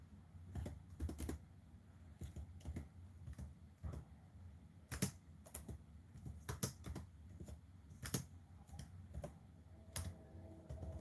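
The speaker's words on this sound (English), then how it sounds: "I gotta type something real quick." Rapid clicking of a computer keyboard being typed on nearby, in irregular bursts of keystrokes with short pauses, steady and fairly quiet throughout.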